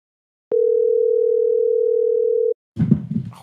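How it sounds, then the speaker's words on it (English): A telephone line gives a single steady electronic tone that sounds clearly for about two seconds and then cuts off, followed by a brief burst of muffled noise. "I think I hear it ringing."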